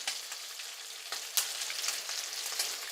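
Prawns for chilli garlic prawns sizzle and fry in a pan just after being flipped, a steady close crackle with sharper spits and pops, no talking.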